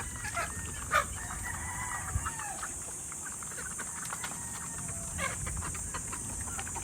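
Chickens raised on a range cluck and crow over a steady outdoor hiss, with a few short calls rising at moderate distance among the flock.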